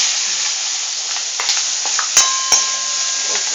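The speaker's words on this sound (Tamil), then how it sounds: "பச்சை மிளகா போட்டுக்கிறேன்." Green chillies fry in a pan for a tamarind chilli pickle, giving a loud, steady sizzle with a few sharp metallic clinks of a utensil against the pan.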